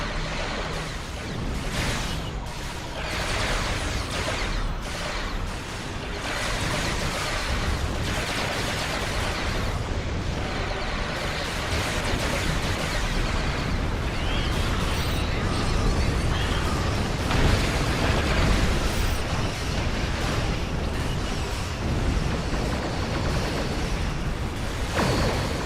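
Cannon scatter volley fire in Star Trek Online: a long, dense barrage of overlapping energy-cannon blasts and impacts, loud and unbroken throughout with frequent sharp pops.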